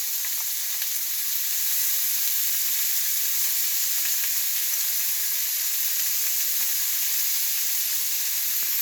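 Beef coated in turmeric fries in a pan, giving a loud, steady, hissing sizzle that holds evenly throughout with no speech.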